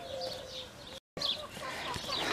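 Chickens cluck and murmur close by as they pick through a pile of leaves outdoors, with soft rustling and a brief cut in the middle.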